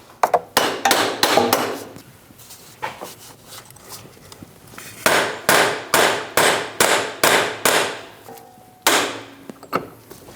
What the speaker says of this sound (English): we're gonna tap on that spacer